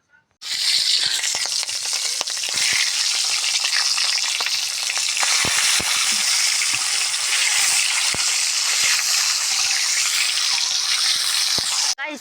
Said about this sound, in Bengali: এখানে কড়াইতে দেশি মুরগির ডিমটা সুন্দর করে ভেজে নেবেন।